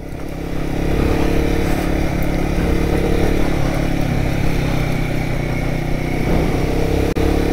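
A Royal Enfield Guerrilla 450 motorcycle ridden on a light dirt trail, its engine droning steadily and loudly at a constant throttle throughout, close and unbroken.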